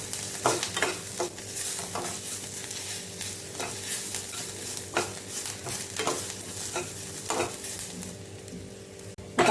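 Onion frying in a pan for a masala, giving a steady sizzle with the periodic scrape and clink of a spoon stirring against the pan, close and continuous, with no voices.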